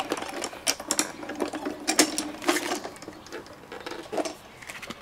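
A die-cutting machine cranks cardstock through a cutting folder, producing a steady run of ratcheting mechanical clicks and whirring at close range with no talk.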